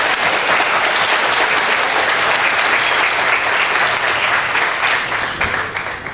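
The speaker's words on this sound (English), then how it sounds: "Everybody clap on that." A crowd at the Victor Valley Museum opening in Apple Valley, San Bernardino County, claps loudly and continuously, dense applause that fades slightly at the end.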